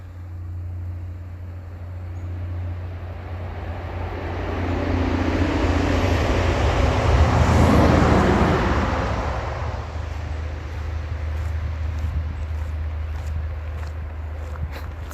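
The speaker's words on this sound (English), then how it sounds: "truck on the highway now." A truck passing on a quiet northern highway on the way to Dawson City, a rumble building from a distance to a loud roaring peak, then fading away slowly, with no voices.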